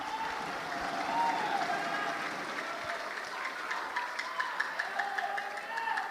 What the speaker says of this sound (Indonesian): Kita berikan tepuk tangan bersama.